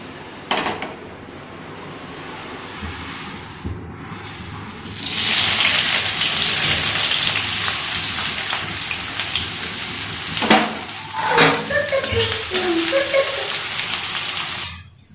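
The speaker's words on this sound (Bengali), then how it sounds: "তো এবার আমি এই তেলে এবার চিকেনটা বসিয়ে দেবো।" Chicken pieces go into hot oil for a homemade biryani: after a quieter start, a loud rushing sizzle bursts in midway and keeps going, with a few clattering knocks near the end and no speech.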